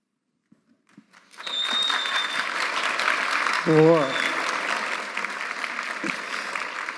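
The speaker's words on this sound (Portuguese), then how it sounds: "uma salva de palmas novamente" An audience claps loudly and steadily for several seconds after near silence, a dense crackling applause that swells, with a brief voice speaking over it midway.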